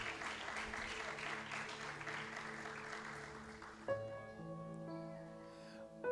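Congregation clapping in a church service, a steady wash of applause filling the room for about four seconds, then giving way to sustained organ or keyboard tones.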